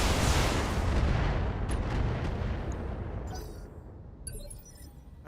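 Mortar turret firing in a MechWarrior game, a heavy booming blast close by that rolls off into a long, fading rumble, with faint mechanical clicks afterward and no talk.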